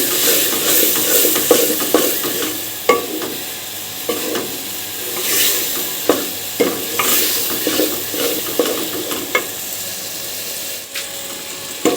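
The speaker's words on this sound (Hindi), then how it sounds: "अरबी को अच्छी तरह भून लिया" Taro root (arbi) frying in a pan with onions and spices, a spoon stirring steadily through a crackling sizzle, with repeated scraping strokes and a few sharper knocks, close and continuous, no talking.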